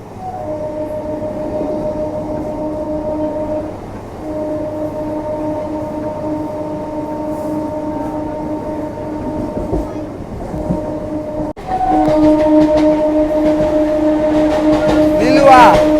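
A fast Indian local train runs toward Howrah station, a steady loud rumble with sustained humming tones from inside the carriage, growing louder and harsher with rattling toward the end.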